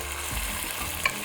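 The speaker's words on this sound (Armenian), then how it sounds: "Եվ մսակտորները տապակում ենք այնքան, մինչև կարմրեն։" Meat pieces browning in a hot pan, a soft steady sizzle with gentle stirring scrapes and a single short metallic tap near the end, close and low in level.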